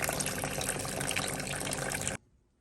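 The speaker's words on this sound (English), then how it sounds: "Fill up our sink and see the results." Water from a reverse osmosis system faucet pours steadily into a sink, loud and close, with a continuous splashing rush that cuts off abruptly near the end, leaving quiet.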